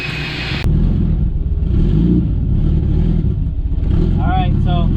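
A car engine rumbles and revs loudly and steadily for several seconds just before a test drive, after a brief sharp start, with a voice breaking in near the end.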